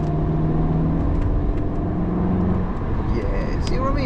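A BMW M340i engine in sport mode revs and pulls hard, its low drone rising in pitch as it accelerates, heard from inside the car.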